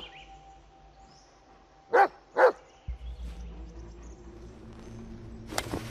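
A dog in the Blair Witch video game gives two sharp, close barks, followed by rustling footsteps and ambient game sounds.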